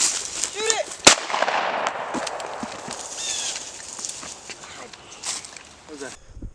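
A shotgun fires once while hunting birds in New Jersey with a Vizsla, a single sharp crack early on. People talk around it and birds chirp and rustle in the background outdoors.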